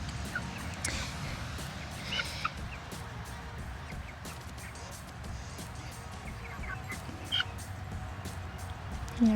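Hens and a rooster cluck and murmur inside a chicken coop, a mix of close, soft clucks and occasional louder calls over light rustling, with a person talking at times.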